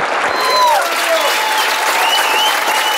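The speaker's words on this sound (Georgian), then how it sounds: "შემდეგ კი ოვაციები, რომელიც თითქმის ყველა მუსიკალური ნომრის შემდეგ გამოიხატა" An audience at a Georgian folk song performance during Georgian culture days in Denmark breaks into dense, sustained applause, a steady wash of clapping from a sizable crowd.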